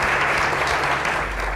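Audience applause greeting the title Mission Impossible: Ghost Protocol, a dense burst of clapping from a large crowd, loud and close, fading slightly at the end.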